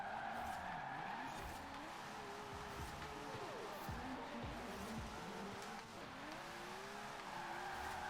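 A Nissan 240SX drift build in Forza Horizon 4, with a revving engine and long wavering tire squeal as the car slides through corners, steady and loud throughout.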